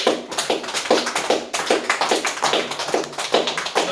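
A church congregation claps together in acclamation during an Easter resurrection service, steady rhythmic hand claps repeating roughly twice per second, close and lively, with no talking over them.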